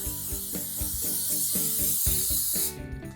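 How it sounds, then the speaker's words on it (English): An olive oil based non-stick cooking spray hisses steadily from a can, one continuous spray lasting close to three seconds, coating potatoes in a kitchen, with light clatter underneath before it cuts off. "we're going to take some non-stick cooking oil spray and we're going to give them a good"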